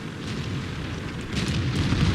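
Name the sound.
tank gun shot hitting an enemy tank turret, video game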